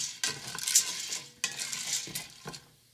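Popcorn kernels crackle and sizzle in coconut oil in a stovetop pan with bursts of stirring and scraping, loud and close, no voices.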